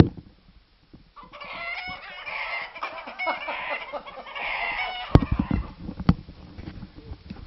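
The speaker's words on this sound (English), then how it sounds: "Yeah, the chicken. I heard it." A rooster sound effect played back crows loudly with clucking fowl around it, followed by a few sharp knocks as the crowing ends.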